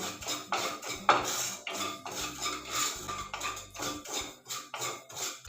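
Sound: dry-roasting poppy seeds in a kadai

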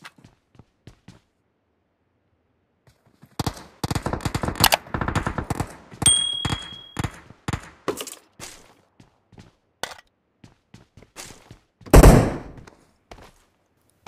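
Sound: gunfire in a battle royale video game (PUBG)

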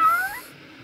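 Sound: orange cat meowing

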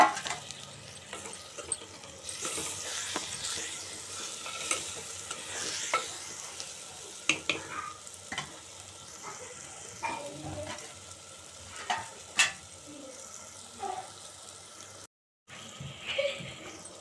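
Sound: stirring potatoes frying in pan

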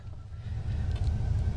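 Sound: car engine running at idle after starting

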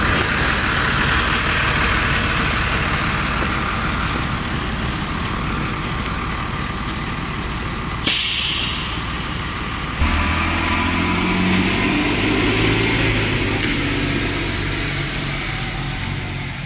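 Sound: Thomas C2 bus diesel engine idling

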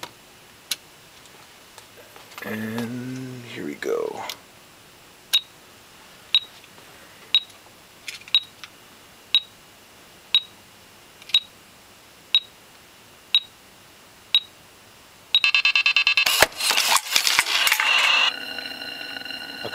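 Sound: homemade bomb defusal countdown timer ticking and beeping

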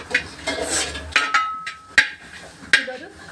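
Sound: stirring a coconut and spice mixture in a pan

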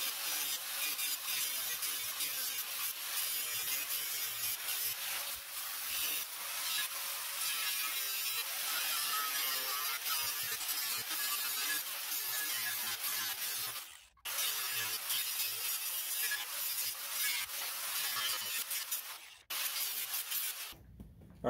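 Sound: cutting out a damaged mower deck section

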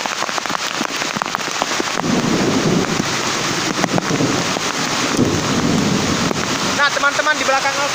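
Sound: heavy rain in the forest

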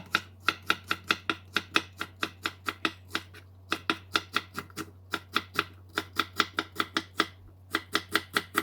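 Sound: slicing green onion (daepa) with a knife

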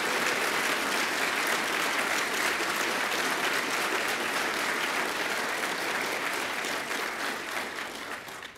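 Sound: audience applause

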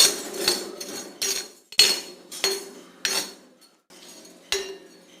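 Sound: stirring blackgram and onion in a hot iron pan

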